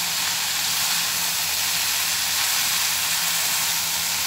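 Carrots, potatoes and chicken fry in a pan with a continuous, even sizzling hiss while they are stirred. It stays steady and fairly close from start to finish, and no one speaks.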